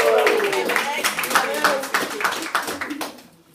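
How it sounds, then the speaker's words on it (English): Audience clapping for a round of applause rises, then thins out and fades toward the end, with people talking over it throughout. "give them a round of applause."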